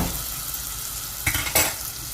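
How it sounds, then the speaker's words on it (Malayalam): Sweet potato halwa with fried cashews being stirred in a pan: a low steady sizzle runs throughout, broken by two short scraping stirs near the end, with no talking. "എന്നിട്ട് നല്ലപോലെ ഇളക്കുക."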